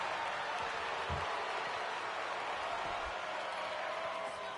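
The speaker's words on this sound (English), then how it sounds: "the crowd definitely into this one already" Arena crowd in a WWE 2K25 wrestling match, a steady wash of cheering and applause at moderate distance, with a couple of low thuds from the ring beneath it.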